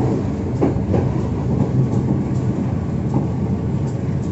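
A local commuter train runs on a dedicated track on the Rancaekek–Cimahi line near Bandung, heard from on board. A steady rumble carries a repeated clickety-clack of wheels over rail joints, moderately loud, with no talk.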